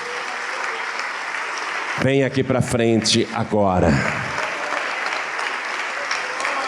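A church congregation applauding in a steady, dense wash of clapping, with a voice speaking loudly over it for a couple of seconds midway.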